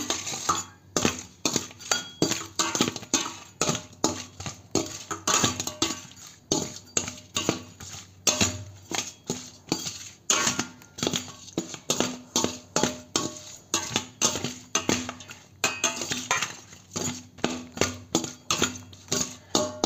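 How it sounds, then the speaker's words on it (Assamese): Salt is stirred into food in a pot with a metal utensil, producing repeated scraping clinks and knocks against the pot in an uneven rhythm, close and fairly distinct, with no talking. "লাৰি দিওঁ।"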